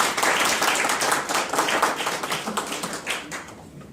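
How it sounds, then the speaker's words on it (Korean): An audience at a forum lecture gives a dense burst of hand clapping to welcome a speaker, loud and close at first, then thinning out over the last second with a faint voice or two underneath. "박수로 좀 봐주십시오"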